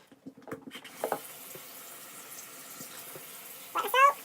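Tap water runs and splashes onto a bar of black charcoal detoxifying soap in a sink, heard as quiet intermittent trickling and wet handling sounds with a louder splash burst near the end.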